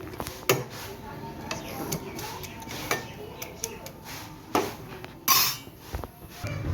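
Chow mein noodles boiling in water in a kadai, stirred with a utensil that knocks and scrapes the pot in irregular clicks over a low bubbling background.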